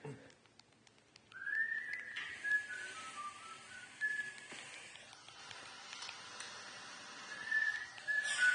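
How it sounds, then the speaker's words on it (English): A man whistles a slow tune with long held notes, somewhat distant and thin, over faint background noise. "So one thing I hadn't thought about in a long time was my father's whistling."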